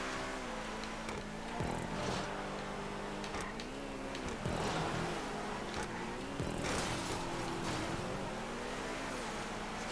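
A Nero supercar drives in GTA 5, its engine note rising and falling through repeated revving and gear shifts, steady and fairly close with occasional bursts of higher noise.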